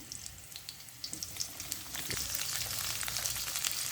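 Oil and ingredients frying in a pan, a close crackling sizzle that swells from scattered pops into a dense continuous hiss, with no voices.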